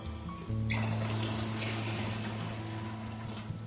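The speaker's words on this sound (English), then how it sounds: "Pour that into your bucket of water." Diluted cleaning solution gushes from a jug into a bucket of water, a sudden splashing pour that starts after a brief pause and keeps running steadily under a low background hum.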